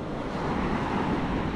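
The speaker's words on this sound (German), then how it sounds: "Boah, die Wellen, die sind toll" Sea waves washing onto the Turkish coast in winter, a steady broadband wash of surf with wind rumble, close and continuous with no pauses and no talk.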